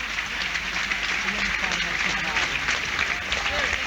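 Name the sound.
planned applause by football fans in the stadium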